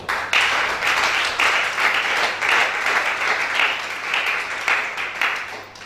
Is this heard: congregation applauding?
yes